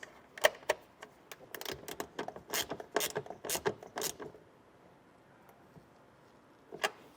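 A ratchet wrench clicks in quick bursts while a nut is tightened down onto a ring terminal during trailer wiring installation on a 2020 Subaru WRX, close and clear, with a pause and then one last short burst.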